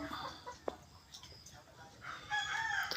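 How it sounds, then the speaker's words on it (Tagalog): Native chickens cluck and call softly nearby, with a brief sharp tap and some rustling, fairly quiet overall. "Dalawang native na manok."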